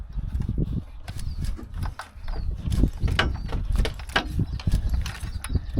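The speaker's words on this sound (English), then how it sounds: "I'm gonna get a 19mm wrench on the crank bolt. And we'll just see if this thing turns over." An old Volvo engine, abandoned for decades, is turned by hand with a 19mm wrench on the crank bolt, giving irregular metallic clicks, clanks and ratcheting knocks at close range.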